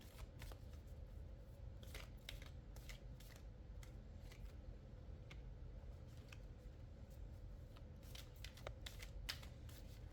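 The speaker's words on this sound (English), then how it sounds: "So I'm going to shuffle just a little bit longer." Tarot cards shuffled by hand during a reading, a steady run of quick papery riffles and soft slaps lasting throughout, close and fairly loud, with no talking.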